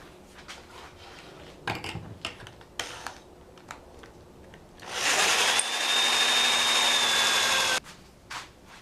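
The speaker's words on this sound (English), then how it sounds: "Using my Craig pocket hole jig. Made a series of pocket holes on the bottom." Drill boring pocket holes in wood through a Kreg pocket hole jig, a loud steady whine lasting about three seconds, preceded by close knocks and clicks of handling the workpiece and followed by a few more taps.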